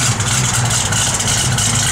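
A 1966 Chevrolet Chevelle SS with a performance cam idles close by, a loud, steady, lumpy rumble throughout.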